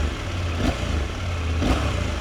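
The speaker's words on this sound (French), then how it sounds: "c'est un son de bicylindre, assez classique, hein, bicylindre en ligne." KTM 890 Duke GP parallel-twin motorcycle engine, about 600 km old, running close by with a steady low rumble and two brief throttle blips.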